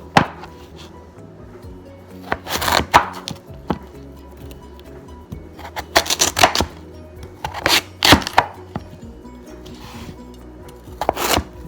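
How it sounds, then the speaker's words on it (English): A knife roughly chopping sweet potatoes on a cutting board, with irregular sharp thunks and clusters of quick chops spread through the stretch, close and fairly loud over a low kitchen background hum. "we're just gonna do a rough chop on the sweet potatoes"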